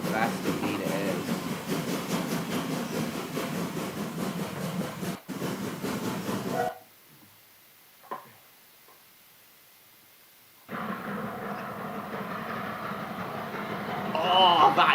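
Steam locomotive Omaha, then coal-fired, running on the Severn Valley Railway, a steady rumbling, hissing rail sound under people talking, dropping away briefly midway before returning.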